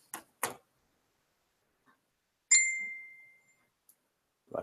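A phone notification goes off during a wrestling podcast, a single bright chime ringing out and fading, with a few soft clicks and thumps around it and no talk.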